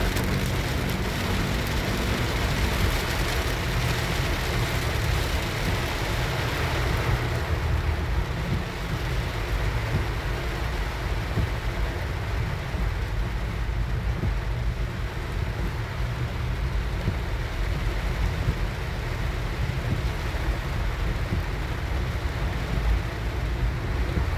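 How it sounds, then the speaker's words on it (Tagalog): Heavy rain drums steadily on a car driving along Airport Road in Pasay City, a dense continuous roar with engine and road rumble underneath, no voices. "Ang lakas ng ulan."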